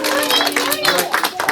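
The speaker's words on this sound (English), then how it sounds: "Can you guys give Looney Dooney a big hand and go, yay!" A children's audience at the close of a live kids' show claps and cheers together, a dense, lively burst of applause mixed with young voices that lasts the whole moment.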